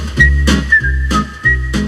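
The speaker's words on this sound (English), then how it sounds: "He wrote the theme to The Andy Griffith Show, had scores of other TV hits." A whistled melody of the theme to The Andy Griffith Show, a clear sustained tune carried over a steady low instrumental backing, loud and close with short phrases.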